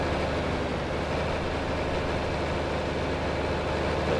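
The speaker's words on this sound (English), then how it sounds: "Man, this tractor's loud, huh?" Tractor engine in the Farming Simulator 25 video game, a loud, steady low rumble droning without pause, with no talk over it.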